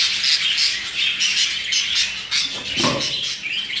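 Crested show birds kept as a breeding pair squawk loudly and repeatedly at close range, a harsh, scratchy run of calls with one fuller cry near the end.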